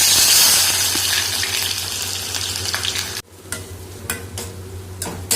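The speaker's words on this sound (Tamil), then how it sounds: "இதை நம்ம வந்து ப்ரௌன் ஆகிற மாதிரி ஃப்ரை பண்ணிக்க போகிறோம் எண்ணெயில் போட்டு" Sliced onions hit hot oil with a loud rushing sizzle that cuts off abruptly, followed by quieter frying and several crisp clacks of a spoon stirring, with no voices.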